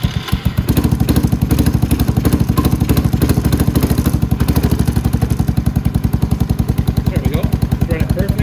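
A Venom X22GT 250cc automatic scooter engine fires up after a brief moment and settles into a loud, close, steadily pulsing idle with a rapid even thump that carries on to the end.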